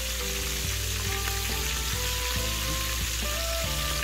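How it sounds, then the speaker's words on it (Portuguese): Small lambari fish fry in hot oil at a ranch, giving a loud, steady, dense sizzle with crackling pops throughout and no talking. "O lambarizinho fritando"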